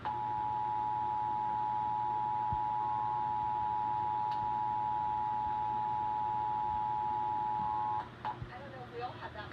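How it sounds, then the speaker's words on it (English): The Emergency Alert System test tone from a nationwide FEMA periodic test plays as a loud, steady, piercing electronic beep for about eight seconds, then cuts off as broadcast sound continues. "This is a nationwide test of the Emergency Alert System, issued by the Federal Emergency Management Agency"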